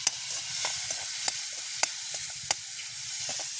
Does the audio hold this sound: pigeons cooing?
no